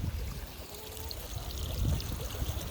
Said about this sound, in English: And then we got a beautiful glacier waterfall.